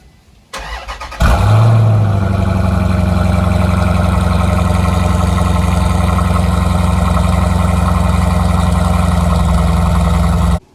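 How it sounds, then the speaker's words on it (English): A Jeep Grand Cherokee SRT with dual exhausts starts up with a loud crank and catch, then settles into a deep, steady, rumbling idle that holds close and loud to the end. "you can see that we have dual exhausts on the Jeep Grand Cherokee SRT. It also sounds pretty good."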